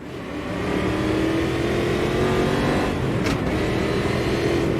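A race car engine hums in the Automobilista 2 sim racing game on the way out to the pit lane. The engine drones steadily and loudly throughout, with no clear rise or fall in pitch.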